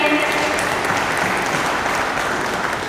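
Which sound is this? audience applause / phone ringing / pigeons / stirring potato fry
audience applause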